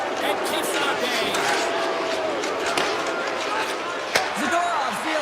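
A virtual home crowd at an ice hockey video game arena roars in a steady, loud wash of cheering and jeering, with a sharp puck or board impact near the end and commentary voices over it.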